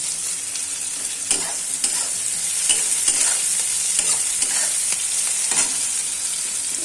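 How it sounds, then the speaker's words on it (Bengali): Bright, crackling sizzle of fish curry ingredients frying in a pan, close and continuous, with a handful of scraping strokes from stirring. "এদিকে এটাও ভাজা ভাজা হচ্ছে"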